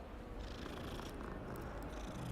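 A cat in the Hogwarts Legacy video game purrs in a low, steady rumble that runs the whole time, faint and alone, with no talk over it.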